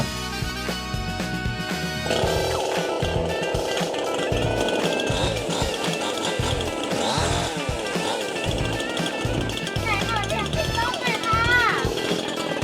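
A TOP5200 chainsaw engine catches after a brief lead-in, then runs loud and close with a rough, buzzing drone that rises and falls as the throttle is worked, continuing to the end.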